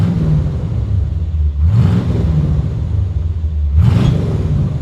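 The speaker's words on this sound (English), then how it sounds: "We'll give it some gentle revs as the car's fully warm" A 1978 Chevrolet Corvette C3 Pace Car with an old-school V8, fully warm, idles with a deep steady rumble and gets two short, gentle blips of the throttle, each rising and falling back to idle.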